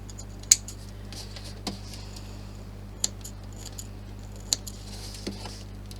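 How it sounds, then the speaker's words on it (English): Small snips cutting thread ends and tie knots on the back of a machine-embroidered design, a few sharp isolated snips spaced irregularly over quiet background hum. "So I've got my little snips, put them in there the right way."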